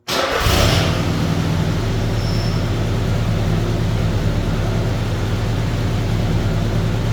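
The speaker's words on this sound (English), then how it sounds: "There's a little bit of an exhaust leak." A Mazda B2200 pickup engine with an exhaust leak starts up and idles loudly and steadily, with a rough, raspy, puffing exhaust note running throughout.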